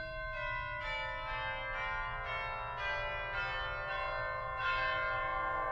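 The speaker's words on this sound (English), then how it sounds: "We've got chimes on this organ as well," Chimes stop on a 1906 Felgemacher pipe organ: a slow run of about seven clear, ringing bell-like notes, each struck and left to sustain over the last, loud and close in a resonant room.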